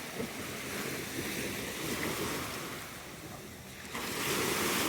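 Sea waves wash onto the shore at a small beach town near Rome, a steady, loud surf roar mixed with wind buffeting the microphone, no voices.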